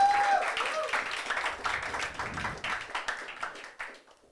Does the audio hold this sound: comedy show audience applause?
yes